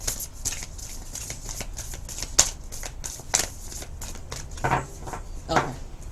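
Tarot cards shuffled by hand during a couples' reading, a steady run of soft riffling and papery flicks with a few sharper snaps, close and alone without talk.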